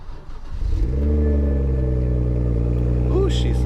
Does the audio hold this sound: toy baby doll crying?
no